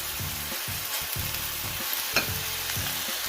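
Chicken satay sizzles loudly on a grill-style pan, a dense close frying hiss with low rhythmic scraping and thumping as pieces are moved.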